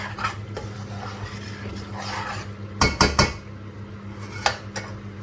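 Chicken liver curry with chopped chilies is stirred in a pan over a medium gas flame, a steady low hum beneath scraping, plus a few sharp spoon-on-pan knocks near the middle and end.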